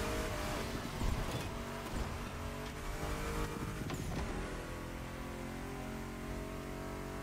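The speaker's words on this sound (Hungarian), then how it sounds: "Ott mennek elől a jó kocsik." Cars racing in The Crew Motorfest, a steady engine drone with a revving surge and some tire noise, continuous and moderately loud with no talk.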